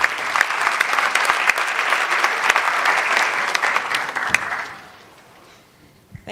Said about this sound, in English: And clap well.